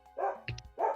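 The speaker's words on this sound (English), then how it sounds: "Dog!" A dog barks in short bursts close by, two rough yelps separated by a sharper high yip, with no talk over it.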